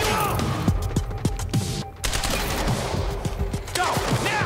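Rapid bursts of advanced SMG fire in the Quantum Break game, in an industrial area, crack out in repeated short volleys with impacts and crashes, loud and close, mixed with game effects.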